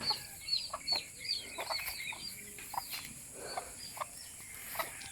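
A hen clucks repeatedly after laying an egg, in short, irregular bursts at moderate distance on a rural farm, with faint rustling and a steady background hiss.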